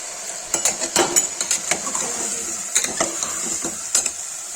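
Potatoes and onions sizzle in hot oil for a spiced potato vegetable dish cooked in a pressure cooker: a steady bright hiss runs throughout, with a spoon scraping and clinking against the pot at intervals.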